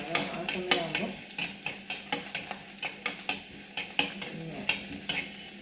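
Spices fried and stirred in a pan, with quick repeated scraping strokes over a steady sizzle and a single brief spoken word.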